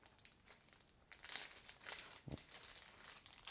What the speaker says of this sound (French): Donc, on va ouvrir ce sachet.